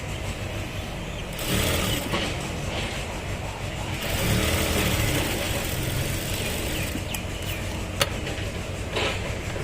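Sewing machine running steadily while stitching the leg side of a pair of shorts, a close, continuous mechanical whir with slight changes in speed.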